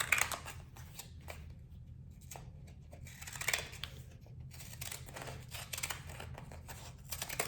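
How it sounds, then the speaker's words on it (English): Scissors snip through paper to cut out a bath salt label, with a series of close, crisp cuts and rustling paper arriving in irregular bursts. "All I do is cut out my label with my fancy scissor."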